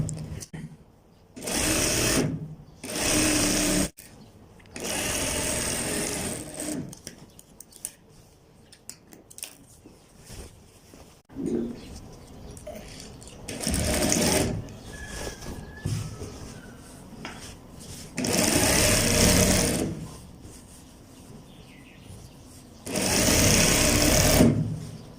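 A sewing machine stitches gents' pajama fabric in loud, close bursts of rapid needle clatter, roughly half a dozen runs of a second or two each, separated by quieter pauses while the cloth is repositioned.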